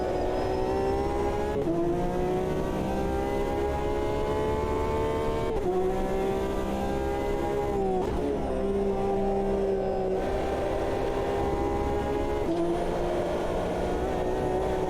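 GTE race car in the sim racing game Automobilista 2, its engine droning loudly and steadily, with pitch drops and shifts as the driver brakes hard into corners and accelerates out, alone without talk.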